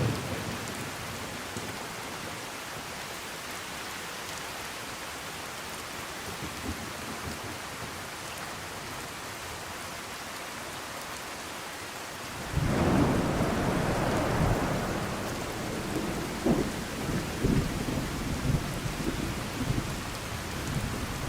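True Storms mod weather in Fallout 4: steady heavy rain, then a loud thunderclap midway that rolls into a long, fading rumble over the continuing downpour.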